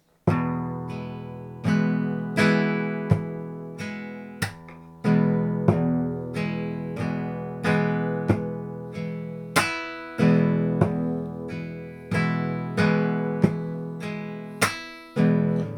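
A guitar plays a gypsy rumba strumming pattern very slowly, with sharp, evenly spaced chord strokes and percussive thumb hits ringing out one after another in a steady, unhurried rhythm.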